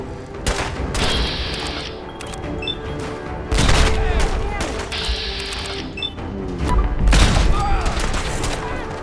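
Heavy weapon fire in a video game, rendered as booming bursts of rapid shots in two or three loud waves over several seconds, with a voice talking throughout.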